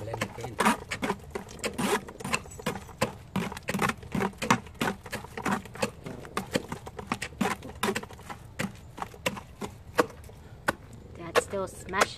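Crab is pounded by hand into paste, giving rapid, irregular but continuous thuds and chopping knocks, close and fairly loud throughout.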